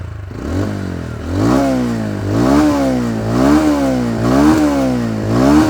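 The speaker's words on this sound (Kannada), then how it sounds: "ಗಾಡಿ ಎಕ್ಸಾಸ್ಟ್ ನೋಟ್ ಕೇಳಿಸ್ಕೊಂಡಿಲ್ಲ ಅಲ್ವಾ ನೀವು?" A TVS Ronin motorcycle's exhaust note, a steady close-up engine drone that rises and falls in repeated revving swells, loud and alone without any talk.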